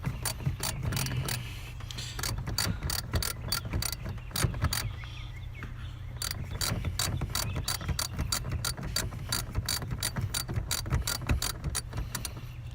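A ratchet clicks steadily as it backs out a loose bolt holding a wiring harness during a performance chip install in a tight engine spot, with rapid repeated pawl clicks running throughout, close and clear.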